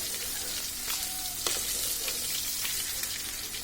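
Pangas fish frying in hot oil, a dense, steady sizzle filling the space up close, with a few brief scrapes and knocks as the pieces are flipped.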